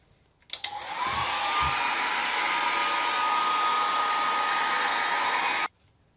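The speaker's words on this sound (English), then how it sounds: "You need a hair dryer." A hair dryer switches on and blows with a steady, loud whooshing hum for about five seconds, then cuts off abruptly.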